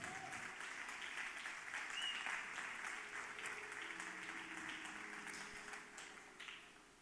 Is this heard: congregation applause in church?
yes